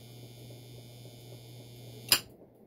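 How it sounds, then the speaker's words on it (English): An antenna rotor brake releases with a single sharp click near the end, after a low steady hum from the rotor unit. "And you hear the brake go off."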